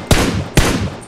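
Loud, close gunshots in the PUBG Mobile game: two sharp reports about half a second apart and a third starting at the end, with no voices.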